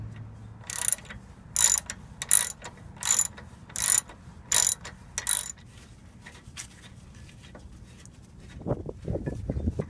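A ratchet with a socket working on the rotor bolts of a Trailblazer with a 5.3L engine: seven sharp, evenly spaced clicking bursts, close and crisp, then quieter clunks of handling at the end.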